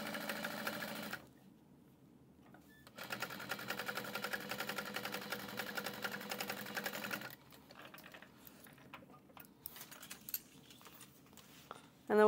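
A sewing machine backstitches through the exterior and lining of a fabric train case, quiet bursts of rapid mechanical stitching separated by pauses and soft handling noises.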